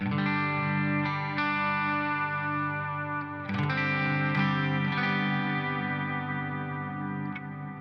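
Clean electric guitar through a Pneuma amp model on a Headrush pedalboard, with sustained chords ringing out close and steady, a fresh strum near the middle and lighter touches late, heard alone without talk.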